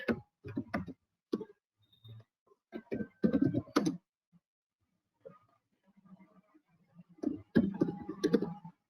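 Someone types code on a computer keyboard in short irregular clusters of close, crisp key clicks separated by brief pauses, with no talk.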